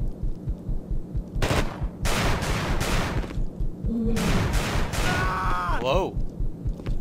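Pistol gunfire in the video game The Thing, with sharp shots in quick bursts over a busy game soundtrack, and a tonal electronic swoop near the end.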